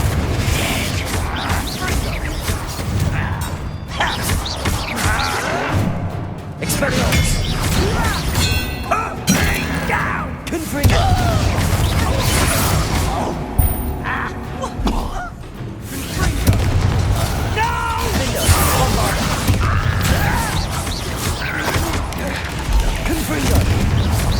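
Spell combat in Hogwarts Legacy, with the Confringo fire spell among the casts: repeated booms, crashes and thuds over about twenty seconds, while a voice calls out spell names over the fighting.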